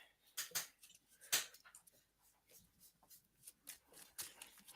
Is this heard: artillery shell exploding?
no